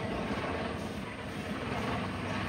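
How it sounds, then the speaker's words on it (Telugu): A helicopter from the Game Changer film, brought for rides, whirring as a steady broadband drone at a moderate distance, continuous and even throughout. "గేమ్ చేంజర్ మూవీలో వాడిన హెలికాప్టర్ అయితే తెచ్చారంట"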